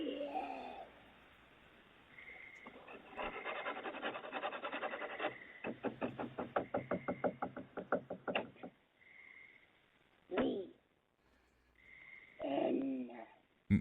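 Scratching and knocking on a back door, picked up by a doorbell camera, come as a long raspy rub followed by a fast series of rhythmic knocks, then a few isolated thuds, heard thinly through the camera's microphone.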